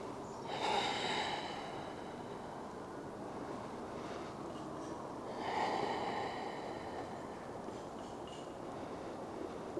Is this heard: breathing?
yes